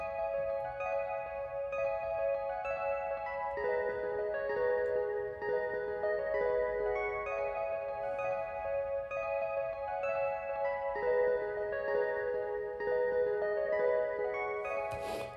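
Arpeggiated keyboard chords from the Omnisphere Keyscape Creative Winter Memories preset ripple in steady, bright repeating patterns, shifting chords every few seconds with soft low notes underneath.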